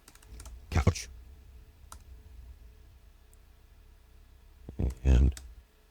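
A few soft keystrokes on a computer keyboard tap out a short word, faint and close between louder bursts of a nearby voice.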